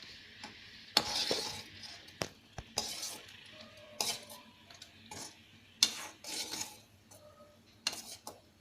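A spoon stirs soup in a pan with irregular clinks and scrapes against the metal, some louder knocks, and a light sizzle underneath, close and without speech.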